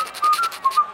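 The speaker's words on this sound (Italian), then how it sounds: "È ritornato il mio fischio" A cartoon sea sponge whistles a bright, wavering tune in short repeated bursts, clear and close with no talking.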